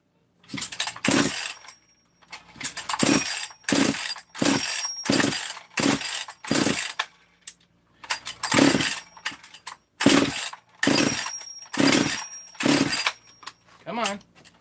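A 262 chainsaw fitted with a modified muffler runs at a high idle after a fuel adjustment, the loud engine surging in rapid, regular bursts with short near-silent gaps between them.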